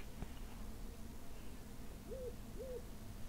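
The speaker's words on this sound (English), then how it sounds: "That's clearly the winter owl." Winter owl hooting in the Roblox game World Defenders, two soft rising-and-falling hoots close together late in the clip over steady low background noise, no voices.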